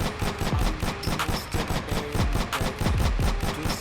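Rapid gunshots fire nonstop in the Aim Lab aim-training video game, a dense, even stream of sharp, loud bursts roughly eight or more per second that keeps going without a break.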